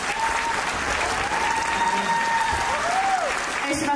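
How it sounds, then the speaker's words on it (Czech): Audience applause at a Christmas stage show, steady and dense throughout with shouts and whistles rising over the clapping crowd. "paní ředitelku Mirku Netolickou, tak poprosím o potlesk."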